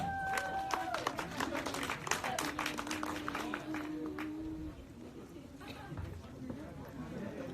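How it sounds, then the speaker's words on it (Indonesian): Applause from the audience at a film gala premiere press conference, a dense patter of many hands clapping at moderate distance, fading gradually over several seconds with voices mixed in. "Saya minta tepuk tangan sekali lagi."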